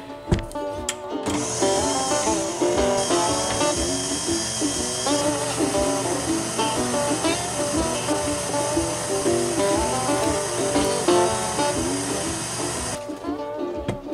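An electric mixer stirs pumpkin muffin batter made with pumpkin pie spice, pumpkin puree, vegetable oil and eggs, giving a loud, steady motorized whir that runs unbroken for about twelve seconds before cutting off.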